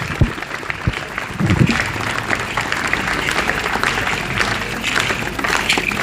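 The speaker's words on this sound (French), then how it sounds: "Vous pouvez applaudir Carvan encore." A crowd claps steadily outdoors at a medieval festival in Le Malzieu, Lozère, with the clapping swelling a little louder after the first second and carrying on evenly.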